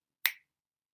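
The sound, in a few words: finger snap imitating the click of a reducing hip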